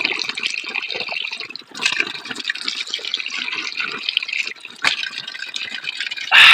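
Water runs steadily from a tap in the middle of a forest with a hissing splash, shifting slightly in intensity, ending with a louder burst of flow.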